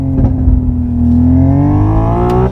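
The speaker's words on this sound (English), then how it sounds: "And if we start to rev it up" A Hyundai Ioniq 6 N electric car revs through its simulated engine sound, a deep synthetic rumble whose pitch climbs smoothly and steadily over a couple of seconds, loud and close with no talking.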